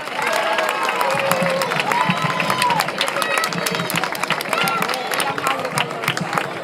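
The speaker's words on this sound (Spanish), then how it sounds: "Un fuerte aplauso para ella." Warm, sustained applause from an audience at the Moros i Cristians festival proclamation in Manises, dense clapping mixed with cheers and murmuring voices throughout.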